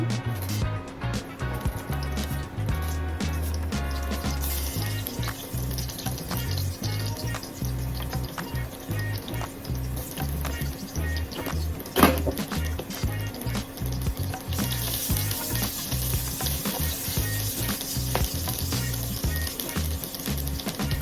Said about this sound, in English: Let's put the onions in.